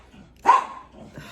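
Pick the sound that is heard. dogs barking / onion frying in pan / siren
dogs barking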